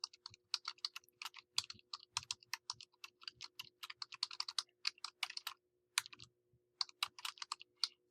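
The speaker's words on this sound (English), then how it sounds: "So you'll type that here." Fingers type a paper's title on a computer keyboard, a rapid, uneven run of crisp key clicks with a few brief pauses, close and fairly quiet, with no talking over a faint steady hum.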